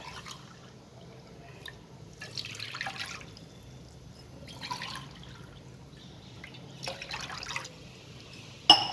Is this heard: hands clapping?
no